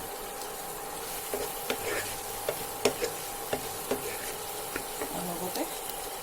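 Boiled potatoes frying in a pan, a soft sizzle under a steady faint hum, with a series of light scraping stirs and clinks from a spoon.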